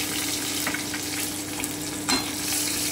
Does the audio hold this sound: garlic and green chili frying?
yes